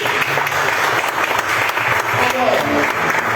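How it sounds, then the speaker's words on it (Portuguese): Congregation applauding in a church, loud continuous clapping from many people, with voices and cheering mixed into the crowd noise. "Então aplauda o Senhor Jesus Cristo."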